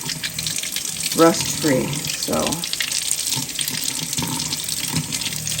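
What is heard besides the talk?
washing glass jars under running tap water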